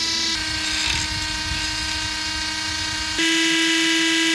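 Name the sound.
Dremel rotary tool carving out a hole for hinges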